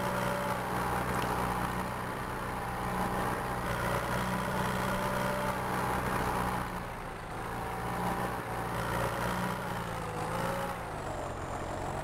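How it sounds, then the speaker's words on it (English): Tractor engine in a farming video game runs at a steady, loud drone with no pauses for the whole stretch, its pitch dipping slightly partway through, with no talking. "I love the sound of this tractor."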